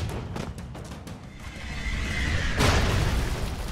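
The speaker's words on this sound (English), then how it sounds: "Oh, I threw a grenade." A grenade goes off in the video game Expendabros, a sharp blast that swells into a loud, sustained boom and rumble over ongoing game noise.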